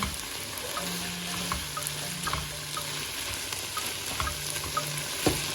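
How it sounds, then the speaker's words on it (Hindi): Mushrooms for spaghetti bolognese fry and get stirred in a hot pan, a dense steady sizzle with a low hum running beneath and occasional soft scrapes of the spoon. "जी तो मैंने अच्छे से मशरूम्स को मिक्स कर लिया है"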